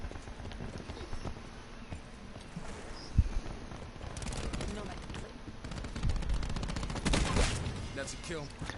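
Gunfire from a modded controller in Call of Duty, a steady stream of in-game shots at a measured, non-rapid pace, with louder bursts toward the end over game noise and some voices.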